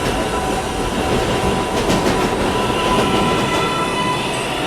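A 7 local subway train running toward Kennedy Main Street, a loud steady rumble of the moving train with a brief clatter of wheels in the middle, no talk.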